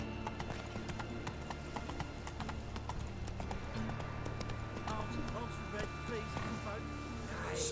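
Roach, the horse in The Witcher 3, gallops with quick, rhythmic hoof clip-clops, close and loud, with a brief whinny near the end; game sounds and ambience fill the background.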